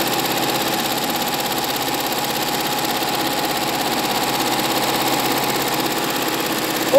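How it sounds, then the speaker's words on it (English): A Barudan multi-head embroidery machine stitches names onto garments with a continuous rapid mechanical chatter and hum, steady and close, with no talking. "press start again, and it just embroiders the third head with the third name"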